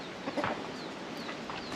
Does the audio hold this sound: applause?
no